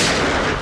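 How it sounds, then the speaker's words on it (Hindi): A short, loud blast of gunfire during a shootout fills the moment, a single dense burst with no voices. "एक काम करो पंकज, मुझे कवर करो और फायरिंग करते रहना।"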